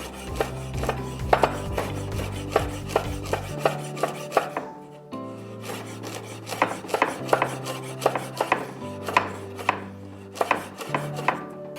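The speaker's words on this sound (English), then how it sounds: "We're gonna roughly chop our sage." Knife roughly chopping fresh sage on a board for a Thanksgiving dinner, a steady run of close, crisp blade taps with a short pause midway before the rhythmic chopping resumes.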